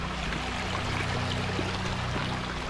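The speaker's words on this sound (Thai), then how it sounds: "เดินขึ้นมาตรงนี้ก็จะมีลำธารน้อยนะคะ" A small stream flows at a campground in Izu, Japan, giving a constant, even wash of running water that stays steady throughout, with a faint low hum running underneath and no voices.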